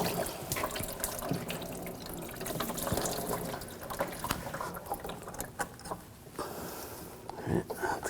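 Engine coolant drains from the thermostat housing of a 2007–2013 BMW 328i 3.0L into a bucket, a steady close splashing trickle with scattered clinks of handling throughout.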